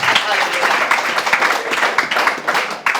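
Church congregation cheering and clapping during a Pentecostal-style Indonesian sermon, a dense continuous wash of applause and shouting voices filling the room, loud and close.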